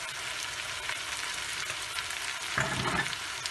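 Zucchini roasting in a pan with cumin and salt, a steady close sizzle and crackle with light stirring, growing a little louder near the end as the food is moved; one brief spoken word.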